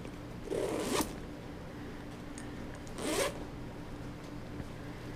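The zipper on a headphone travel bag for ABYSS Diana Phi headphones is pulled open in two short, scratchy strokes about two seconds apart, close and fairly loud with no one talking.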